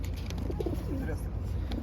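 Pigeons cooing at a pigeon show in Ivano-Frankivsk, with soft, steady coos rising amid ambient crowd noise while people talk nearby.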